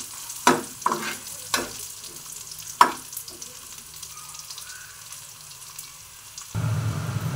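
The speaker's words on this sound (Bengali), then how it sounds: "পেঁয়াজটা অনেক ভাজা হয়ে গেছে, আমি রসুন আর আদা দিয়ে দিচ্ছি।" Onion frying in a pan with garlic and ginger, several sharp utensil scrapes and knocks over a low sizzle, then a louder, rushing burst near the end.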